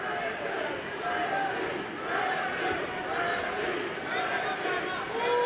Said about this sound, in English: Got the crowd looking to try to give some kind of encouragement to Richie Smullen.